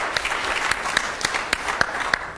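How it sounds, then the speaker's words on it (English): A conference audience claps for a panel in a short burst of applause, with a few sharp individual claps standing out over the steady patter. "I'd like to give you all a round of applause"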